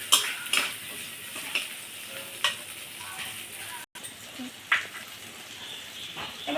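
Spice masala is sautéed with fried potatoes in a pan, a low sizzle broken by sharp scrapes and clinks of the spoon against metal every second or so.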